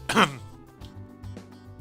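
A man imitates someone coughing, one rough throaty cough-like burst at the start followed by a few softer voiced noises, close to the microphone.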